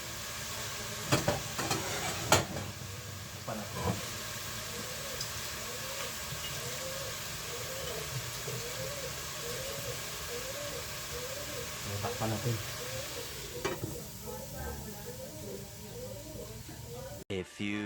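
Dinuguan being stirred and fried in a pan gives a steady soft sizzle and hiss, with a few utensil clacks near the start and again later, and faint bubbling throughout.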